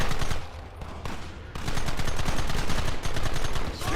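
Rapid gunfire crackles without pause in the video game Red Dead Redemption, a dense loud volley of overlapping shots from several guns that dips briefly early on and then resumes at full intensity.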